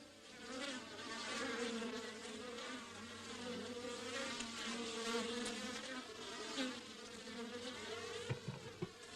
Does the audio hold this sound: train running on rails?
no